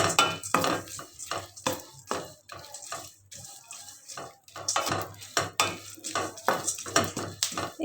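A spoon scrapes and clatters against a pan as dry nuts roast, with repeated rhythmic stirring strokes and dry rattling, close and fairly loud, with a faint sizzle underneath.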